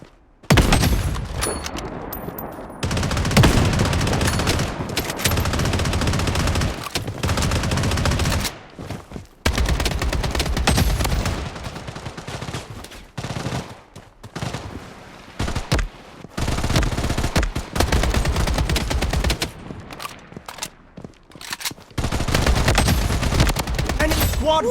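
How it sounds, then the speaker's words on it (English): Rapid automatic gunfire in the mobile shooter game Blood Strike Mobile comes in repeated loud bursts separated by brief pauses, with game voice callouts in between. "Taking fire!"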